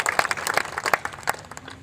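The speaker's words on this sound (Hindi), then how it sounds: "जरा जोरदार तालियां उठें औरंगाबाद के" Audience members at a Hindi poetry recital in Aurangabad clap in a short, uneven burst, individual claps distinct and moderately close, the sound thin and scattered rather than a full roar.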